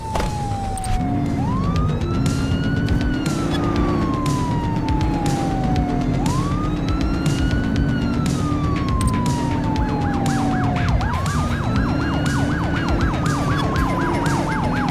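A wailing police siren sweeps up and down in long, repeated cycles during a car pursuit in The Precinct, loud and steady over a constant engine and road rumble, with a faster yelping pattern near the end.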